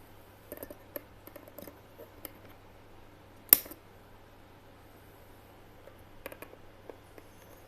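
A single sharp snip from cutters trimming component legs during a coil build, standing out near and crisp among scattered faint clicks and handling ticks on a quiet background.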